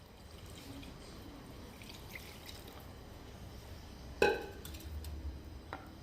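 Water poured into a cooking pot of beef trotters (paya) lands with a sharp metallic clank and a brief splash, quiet against a faint kitchen background with no talking.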